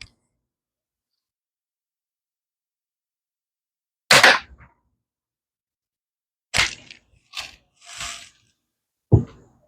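A V840 air gun fires at a DIY home target in a quiet room: one sharp crack, then after a pause a quick series of four more snaps and thuds, with a final crack near the end.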